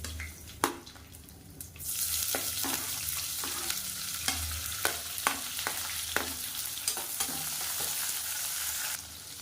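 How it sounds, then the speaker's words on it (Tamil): A sliced large onion sautés in a pan with fennel, curry leaves and mint. A loud, steady sizzle starts after about two seconds, broken by repeated close spatula scrapes and knocks against the pan. "இப்போ வெங்காயம் இந்தளவுக்கு வதங்கினா போதும்"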